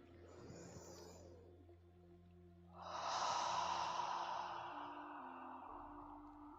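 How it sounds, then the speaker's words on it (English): A slow meditative in-breath, a soft airy inhale that swells for a few seconds over a steady low hum in a quiet room, loud and close, with no talking. "Breathing in."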